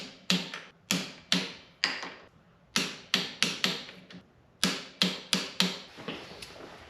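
Sharp, evenly spaced ratchet clicks from a torque wrench tightening the fork stabilizer bolts on a BMW F650GS Dakar, heard in close bursts of several clicks with brief pauses between them.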